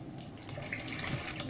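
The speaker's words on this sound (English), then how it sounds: "So now I'm going to add the other milk there." Milk pours steadily into a pot of cooked rice porridge on a stove, a continuous close liquid splash and trickle that holds at a fairly even level throughout.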